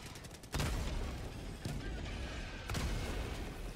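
Frag grenade going off danger close in Helldivers 2: sharp loud blasts burst out amid ongoing gunfire, one near the start and another later, over a dense rumbling battle din.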